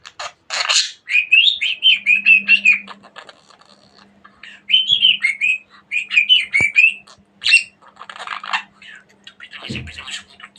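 A pet budgerigar chirps and warbles in close, loud bursts of rapid twittering, separated by short quiet pauses.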